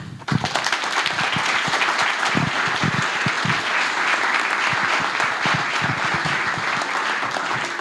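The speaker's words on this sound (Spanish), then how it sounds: "Reiteremos el aplauso, por favor, para Víctor Escobar." Audience applause at the end of a presentation: dense, sustained clapping from a crowd, close and fairly loud, beginning abruptly and holding steady to the end.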